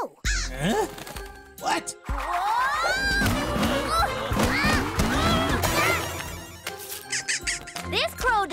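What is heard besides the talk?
crow cawing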